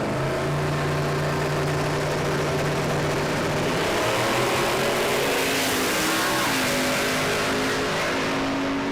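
A twin-turbo Windsor V8 in a Ford Mustang drag car runs loud and sustained, its pitch climbing steadily through a hard pass at a radial drag racing event.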